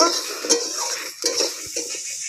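Cut potatoes stirred in a pan with spices for a mustard hilsa dish, brisk close scraping and clinking of a utensil against metal over a soft sizzle, no voices.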